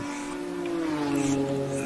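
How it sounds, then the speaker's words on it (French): GT4 race cars in a racing video game drone steadily, a sustained engine tone that slowly falls in pitch and then holds, moderately loud with no talk over it. "le son des voitures est bon"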